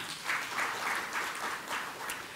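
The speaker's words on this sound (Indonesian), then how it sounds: "tepuk tangan semuanya" Audience applause at an Indonesian central bank event on Islamic finance, a steady wash of many hands clapping at moderate distance, fairly soft and continuous with no voices on top.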